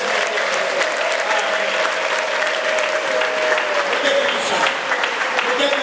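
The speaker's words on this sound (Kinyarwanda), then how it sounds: "tugukomeye amashyi menshi." A church congregation applauds, a loud dense wash of clapping from many hands that holds steady throughout, with a sustained tone and voices running faintly underneath.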